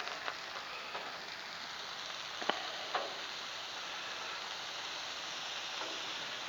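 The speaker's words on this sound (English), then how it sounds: "Throw down just a couple pats of butter." Pats of butter sizzling on a hot 36-inch Blackstone griddle under a hood, with a steady soft hiss and a few faint pops, constant and fairly quiet.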